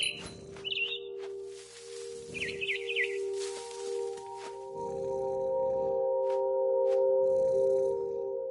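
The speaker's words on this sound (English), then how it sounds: "Then I heard chirping outside my window. It was a barn swallow going back to her nest." A barn swallow chirps outside a window in the video game What Remains of Edith Finch, with short bright twittering bursts in the first few seconds over a sustained musical drone and soft rustling.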